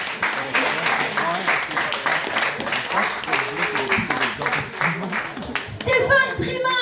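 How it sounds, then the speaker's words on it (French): Applause from a small open-mic comedy crowd in a bar, steady clapping and cheering over loud talk from the host, with a voice rising clearly near the end. "Stéphane Trimard, on l'applaudit s'il vous plaît!"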